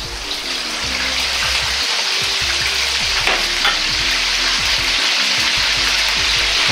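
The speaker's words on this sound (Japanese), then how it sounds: "油に入れた瞬間にたくさんの気泡が出ていて高温に響く音がすればベストな温度のタイミングです。" Chicken karaage pieces deep-fry a second time in oil heated to about 180 degrees, giving a loud, close, continuous bubbling sizzle with scattered crackles that stays steady throughout.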